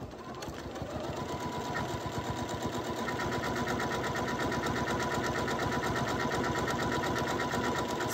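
A sewing machine runs steadily through a decorative darning stitch, its needle chattering in a fast, even mechanical rhythm close up, with no pauses and no voices.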